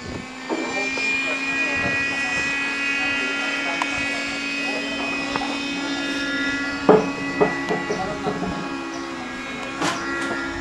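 RC Cessna model airplane flying in extremely strong wind, its steady engine drone continuous throughout with wind buffeting, plus a few sharp knocks and people talking nearby.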